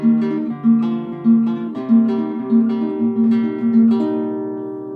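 Fingerpicked guitar notes plucked one by one on strings 6, 3, 4, 2 in a steady repeating pattern over a sustained chord, close and clear, letting the final notes ring out.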